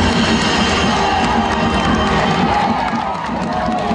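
A loud, dense crowd in Pampanga cheers, shouts and applauds to welcome the President, with a continuous wall of voices and clapping throughout.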